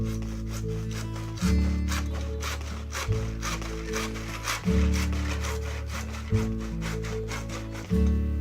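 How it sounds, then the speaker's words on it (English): An old hand saw cuts through 1.5 inch plastic pipe in a series of long back-and-forth strokes, loud and close, with rough rasping bursts and no speech. "Using an old saw, cut the pipe on the marks."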